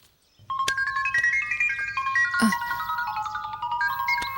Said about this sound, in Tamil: அத்தை ஃபோன் வந்திருக்கு, நான் போய் பேசிட்டு வந்துடவா?